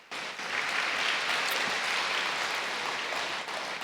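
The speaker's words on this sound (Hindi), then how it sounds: "ये तो सबसे जरूर ताली बजाओ।" A crowd claps steadily and densely at a spiritual gathering, the applause holding at an even level for several seconds after a sudden start, with no speech over it.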